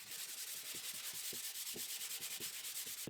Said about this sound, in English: finished it off with loads of sanding by hand